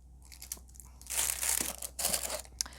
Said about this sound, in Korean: 비닐 느낌이 되게 바스락바스락 좀 특이해요.